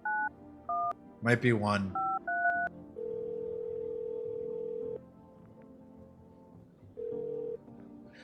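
Telephone dialing tones in the video game No, I'm Not a Human: several short keypad beeps, a long steady tone, a brief voice, then another short tone, clear and close.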